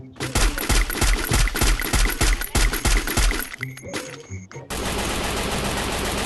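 Rapid gunfire in the mobile battle-royale game Free Fire, loud bursts of automatic shots with metallic clinks of casings, then a brief pause and a sustained noisy rush, with no speech over it.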